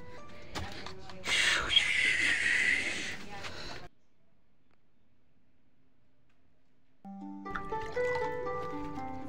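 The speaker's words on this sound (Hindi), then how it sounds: "चलो आ जाओ इधर, इसके लिए पानी डालते हैं।" Water poured into a container for pet rabbits, a running trickle and splash lasting a few seconds, then quiet, followed by nearby voices talking.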